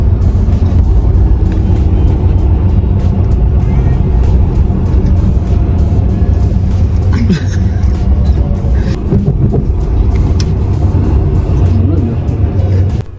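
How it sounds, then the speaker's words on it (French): Inside a bus on a Saturday evening ride, the engine and road noise rumble loud and constant, and a voice talks briefly over the drone. "On commence par prendre le bus le samedi soir"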